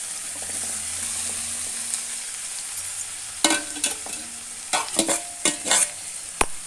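Potatoes frying in a pan, a steady quiet sizzle broken in the second half by several sharp scraping stirs of a spatula, ending with a crisp knock against the pan.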